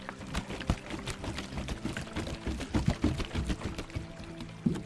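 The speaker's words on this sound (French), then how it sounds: "verse la bouteille d'eau sale à l'intérieur du seau" Muddy river water glugs and splashes as it pours from a bottle into a bucket of small pebbles, an uneven, close, gurgling stream lasting several seconds without talk.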